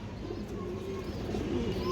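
A light-coloured female sobji pigeon of an old breed, wearing a metal leg tag, coos softly and steadily, close by, with no voices present.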